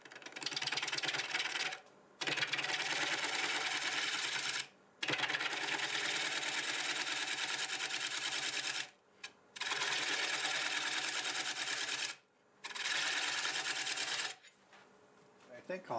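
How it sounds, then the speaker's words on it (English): Green walnut turning on a wood lathe with a 1/2-inch bowl gouge, loud harsh scraping cuts in four long bursts separated by short pauses, close up, with the lathe humming underneath. "I'm going to use a 1/2-inch bowl gouge"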